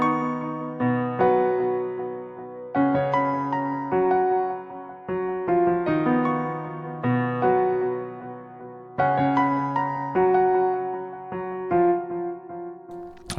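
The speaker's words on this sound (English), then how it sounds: "This is the Grand XV piano from Xenology" The Grand XV piano from Xenology plays fuller, rich chords in a rhythmic pattern, each struck cluster ringing and decaying before the next, close and clean with no talking over it.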